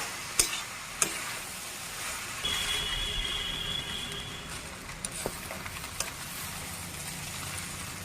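Fried rice with mixed vegetables and garam masala being stirred in a pan: a soft, steady sizzle broken by a few sharp taps and clicks of the spatula against the pan.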